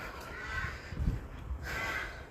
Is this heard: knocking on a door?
no